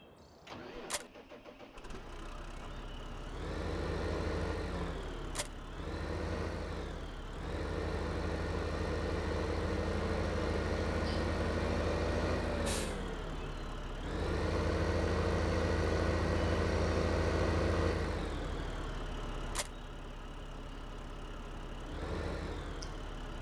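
A big tractor engine in Farming Simulator 15 starts up, then drones and idles with rising and falling revs as it rolls back and forth, loud and close with no talk.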